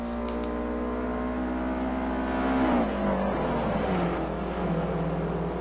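Subaru race cars in the Forza 4 video game at the Nurburgring rev hard under acceleration, engine pitch climbing steadily then dropping through a gear shift, loud and up front.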